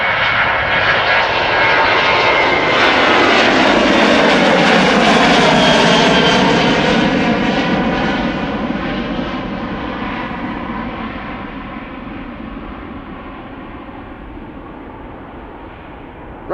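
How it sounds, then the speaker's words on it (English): A Transavia Boeing 737-700 jet roars down the runway and lifts off on departure for Manchester, swelling to a loud, broad engine rush that peaks midway and then slowly fades as it climbs away. "Right, off to Manchester, 737-700, Transavia, but flying for KLM."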